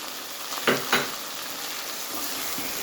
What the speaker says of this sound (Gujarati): ટામેટાને તમારે સરસ સાતળી લેવાના છે